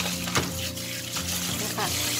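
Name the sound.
rinsing shrimp under running water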